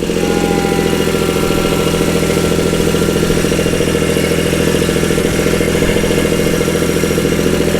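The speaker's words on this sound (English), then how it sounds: "so I'm going to rev this up. It's going to get a little loud. About 1500 RPM." A loud engine held steady at about 1500 RPM while towing an Agri Fab 48 by 24 inch steel field roller, giving a continuous, even drone with constant vibration throughout and no voices.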